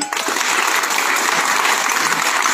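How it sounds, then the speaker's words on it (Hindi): Loud, sustained applause from a gathered crowd honoring paramilitary soldiers at a police community harmony event in Ayodhya, steady dense clapping filling the whole stretch with no talk over it. "इनके लिए भी हमारे तरफ से एक जोरदार ताली हो जाए"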